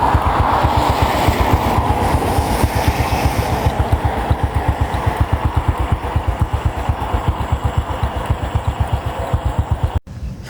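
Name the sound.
Honda 110cc motorcycle riding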